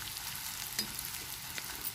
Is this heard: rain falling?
no